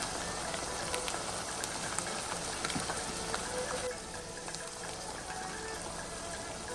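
Minced beef keema frying in a pan for a keema aloo matar dish, giving a steady dense sizzle and crackle close by with faint pops, no talk over it.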